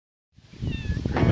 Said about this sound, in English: The lady cat seems to be enjoying it so far.